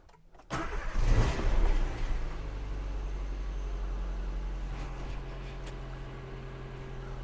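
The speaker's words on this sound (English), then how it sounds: "let's crank it over, get it started up and see how she sounds" A Nissan Micra K12 engine cranks and catches, roaring briefly before settling into a steady, close idle with a constant low rumble.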